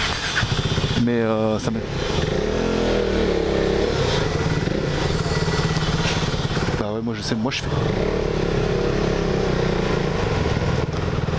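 A KTM Duke motorcycle rumbles through Pattaya streets without its new exhaust, a steady engine drone with rising revs and gear changes running continuously close by under a rider talking in French.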